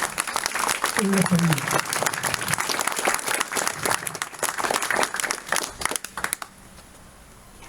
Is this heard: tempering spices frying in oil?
no